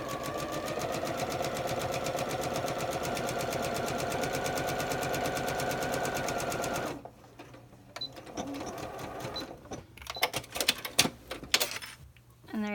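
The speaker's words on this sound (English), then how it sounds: "You're going to want to back stitch at the beginning and the end of this seam" A sewing machine runs a continuous, close stitching burst along a pants pocket seam, then stops and gives way to scattered clicks and handling knocks of the fabric and machine.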